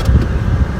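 A car engine runs steadily with a low rumbling drone, close and continuous, inside the vehicle.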